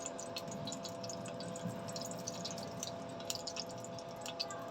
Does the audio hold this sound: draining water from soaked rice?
yes